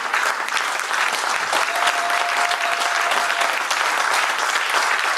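A church congregation applauds during a French-language sermon, a dense, steady roar of many hands clapping at even loudness for the whole stretch, with a faint sustained tone running through the middle.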